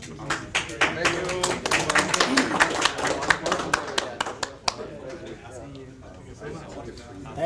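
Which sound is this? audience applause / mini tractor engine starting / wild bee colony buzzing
audience applause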